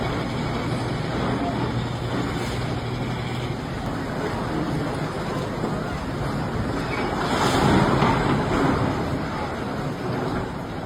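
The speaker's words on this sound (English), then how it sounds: "The powerful flow of the Maritime River quickly turned a ship into an uncontrollable drifting vessel." Strong water current and churning waves around a drifting ship on the Maritime River, with steady wind noise, a continuous loud rush that swells briefly midway.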